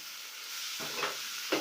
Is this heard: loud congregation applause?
no